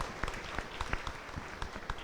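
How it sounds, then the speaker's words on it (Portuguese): Congregation applauding birthday celebrants during a solemn Mass for Saints Peter and Paul, a steady, dense patter of many hands clapping in a reverberant church, sustained through the whole stretch with no talk over it. "Uma salva de palmas aos nossos aniversariantes."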